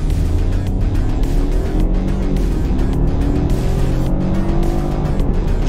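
A BMW F30 318i with a 136 hp engine revs hard under full acceleration, its loud continuous engine note climbing through gears with rising harmonic sweeps, heard from inside the car without talk.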